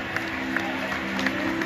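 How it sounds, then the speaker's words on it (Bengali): Applause from the audience at a stage drama, a steady wash of clapping from a crowd with faint crowd murmur and a low tonal hum beneath, continuous and fairly distant. "জোরে পাতায় তালি দিন সবাই"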